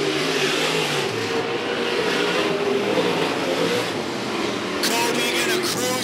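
Race car engine roaring steadily on a dirt oval at El Paso County Raceway during the final lap of a race, with a sustained loud drone and a track announcer talking over it.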